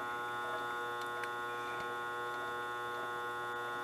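A fly cutter spins in a machine, giving a steady electrical motor hum with a constant tone and faint clicks, close and unchanging for a few seconds without talking.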